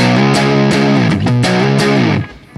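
An electric guitar plays through the fuzzy red channel of a Marshall-style preamp. Several distorted, sustained chords are struck in turn, loud and close, and the last one is cut short into a brief tail.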